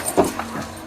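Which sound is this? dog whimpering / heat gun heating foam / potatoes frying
dog whimpering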